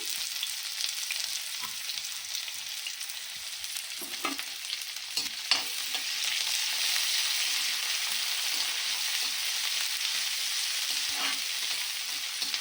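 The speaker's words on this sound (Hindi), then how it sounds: "तो जीरा हो चुका है और मैं यहाँ पे डालूँगी इसमें प्याज" Onions, two medium ones, frying in hot oil with cumin seeds in a home kitchen, giving a steady broadband sizzle that grows a little louder midway, with a few soft stirring knocks and no talking.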